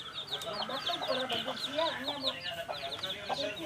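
Rhode Island Red chickens cluck steadily in a backyard flock, a busy overlapping chorus of short calls at moderate distance.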